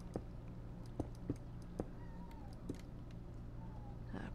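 A house cat meows faintly in the background behind a low steady hum, with scattered computer keyboard clicks and taps; one drawn-out meow is heard near the end.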